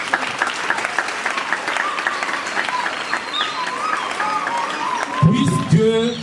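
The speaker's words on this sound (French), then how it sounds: "que je vous prie d'applaudir" An audience applauds Maman Bibi Mampassi at a ceremony in the DRC, with sustained clapping and some cheering, voices rising over it near the end.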